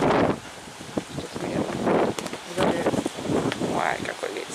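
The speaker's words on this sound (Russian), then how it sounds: "Ой, какой ветер." Strong gusty wind buffets the microphone outdoors by a river during a storm, roaring in surges while people talk close by.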